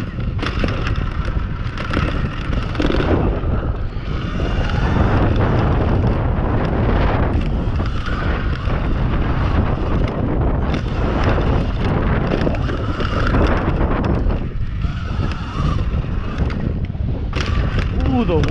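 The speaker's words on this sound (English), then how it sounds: "It's a little bit of wind." Steady wind buffeting a microphone while an electric Surron dirt bike rides rocky trails, a loud continuous rumble with gusts rising and falling throughout, a voice talking over it at times.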